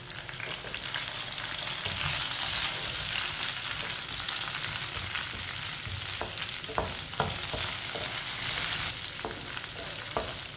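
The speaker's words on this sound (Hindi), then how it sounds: "प्याज को हल्का सा ब्राउन कर लेंगे। सूखी हुई 3 मिर्च डाल लेंगे।" Onions and three dried chillies fry in hot oil for a masoor dal, giving a loud, steady sizzle throughout with occasional clicks of stirring.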